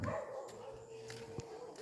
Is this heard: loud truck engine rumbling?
no